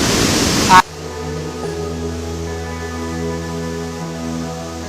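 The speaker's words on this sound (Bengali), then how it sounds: "সবচাইতে ইউরোপের মধ্যে বড় ঝর্ণা" A steady, full roar of a large Swiss waterfall fills the scene, broad and constant, after a brief louder burst at the very start.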